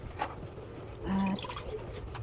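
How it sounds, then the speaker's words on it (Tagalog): A glass of water is poured into a cooking pan for mango pickles, giving a brief splash and trickle over a soft, steady background. "sa kawali maglalagay ako ng isang basong tubig."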